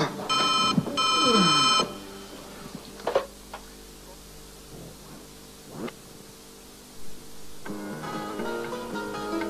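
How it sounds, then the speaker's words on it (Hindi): A telephone rings in a scene from a classic Pakistani television drama, giving two quick, bright electronic ring bursts at the start, followed by quiet with a few faint knocks and a brief tonal passage near the end. "किसका टेलीफोन आ गया?"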